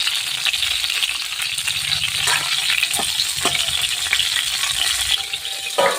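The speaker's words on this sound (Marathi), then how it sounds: "आणि बघा छान असेल त्याच्यामध्ये परतून घेतलेलं आहे" Bitter gourd sautéing in a pan gives a loud, continuous sizzle broken by frequent stirring scrapes and light metallic clinks, with no talking heard.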